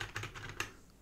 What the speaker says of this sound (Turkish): Hemen bir Word'de bir şeyler yazalım.